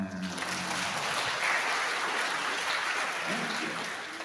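Steady audience clapping at an Islamic Maulid Nabi religious gathering, fairly faint and continuous throughout, with a little voice noise mixed in.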